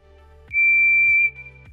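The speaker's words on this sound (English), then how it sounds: "The close-up of Percy's whistle" A toy-like steam engine whistle from the Thomas & Friends character Percy sounds one clear, loud, sustained high note lasting under a second, set against a quiet rhythmic chuffing of the engine, with no voices.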